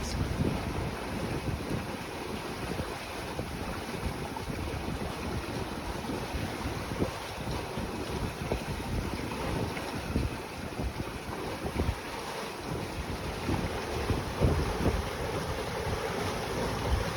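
A sailboat moves under sail with its motor off, giving a steady whoosh of wind and water rushing along the hull on open sea, with no talking.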